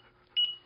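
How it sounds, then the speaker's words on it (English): A KS16x device gives one short, clear electronic beep after reconnecting during a firmware update, in an otherwise quiet room. "it's beeping at us"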